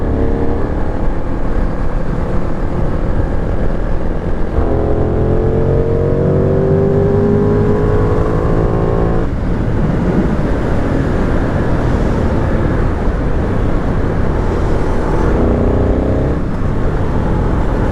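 A Benelli 752S motorcycle engine revs hard and close, its pitch climbing in repeated sweeps before dropping back and rising again, loud throughout with no talking.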